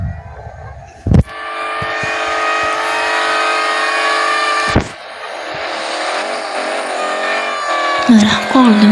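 A Mercedes W124 with a 300 hp engine revs hard and holds a high, steady whine that climbs and shifts. Sharp thumps break in at the start and midway, and a voice speaks over the engine noise.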